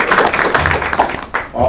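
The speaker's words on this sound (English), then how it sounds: "Let's give him an applause" Brief, moderate audience applause at a university lecture, a short scattered burst of clapping that dips and swells within under two seconds, with some voice sounds mixed in.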